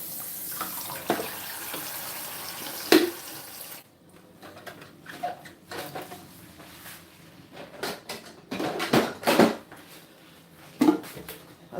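Tap water runs and splashes into a sink while green juicing produce such as broccoli, kiwi and spinach is rinsed, steady at first and then broken into intermittent bursts, with clattering handling noises in between.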